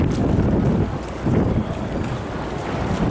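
Wind gusting across Times Square in New York, buffeting the microphone with a loud, uneven low roar that surges and eases over a few seconds.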